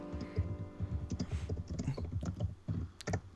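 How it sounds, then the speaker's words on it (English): Rapid clicking of keys on a computer keyboard, an uneven run of close taps with no talking. "I can hear you typing."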